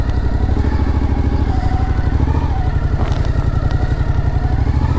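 Motorcycle engine idling and puttering close by as the bike is parked at the Chilean border on a round-the-world ride, a loud steady throbbing run with faint clatter throughout.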